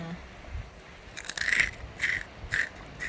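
A crunchy snack packed with a hotpot meal is bitten and chewed, giving three or four short crisp crunches up close over a quiet background.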